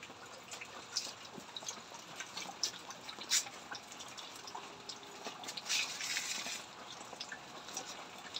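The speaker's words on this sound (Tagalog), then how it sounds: "Ulan ngayon dito. Tumutulo." Rainwater drips and taps steadily near an outdoor wood-fire cooking spot, faint scattered drops over a constant soft hiss, with no talking.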